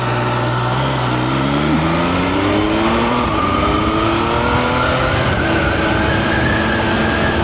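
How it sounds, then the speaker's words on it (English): An Italian touring motorcycle's engine rises in pitch as it accelerates steadily away, a continuous loud drone with climbing tones filling the whole stretch. "these are not motorcycles that you get to ride every day"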